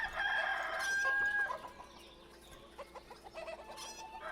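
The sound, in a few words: chickens clucking in video game Ostriv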